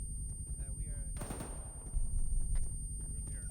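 Gunfire in ArmA 3 during squad training inside a multi-storey building, a brief burst of shots under low rumbling and radio-style voices talking.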